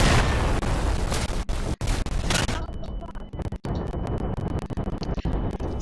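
A grenade explodes in the World War II shooter Day of Infamy, Dunkirk invasion map: a loud, broad, roaring blast in the first two seconds, then rumbling debris and battle noise that fade under a voice talking.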